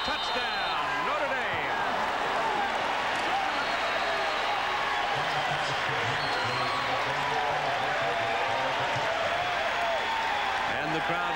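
A large stadium crowd roars continuously after a touchdown at a Notre Dame at Texas college football game in 1996, with a commentator's voice running over the dense cheering.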